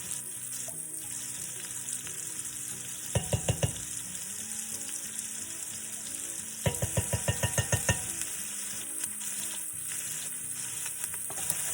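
Garlic sizzling and frying in a pan for Portuguese bean soup, a steady loud hiss with two bursts of rapid scraping stirring.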